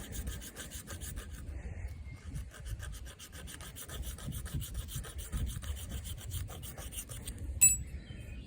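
A knife spine in D2 steel scrapes repeatedly along a ferro rod, giving a close, steady rasping rub with a brief bright scratch near the end.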